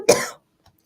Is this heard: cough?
yes